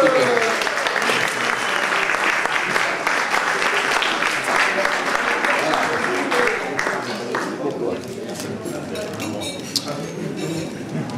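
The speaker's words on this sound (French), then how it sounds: "Je voudrais que vous applaudissiez M. David Andron, secrétaire général de la Parole du Constitution." An audience at a French cultural festival event applauds heavily and continuously for about seven seconds, then the clapping thins and fades into room murmur and a voice speaking.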